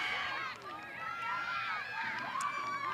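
Crowd at a girls soccer sectional final between Oregon and Union Grove, a broad rumbling murmur with scattered whistles and shouts, heard under continuous commentary.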